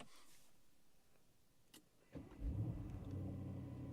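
Twin-turbo 4-liter V8 of a Maybach SL 680 starting, heard from inside the cabin: a quiet whir and click, then the engine catches and settles into a subdued, steady low idle.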